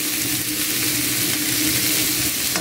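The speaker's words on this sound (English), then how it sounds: "let all this cook for like 1 minute on high heat" Stir-fry vegetables frying on high heat in a pan, a steady close crackling sizzle without pause, no voices.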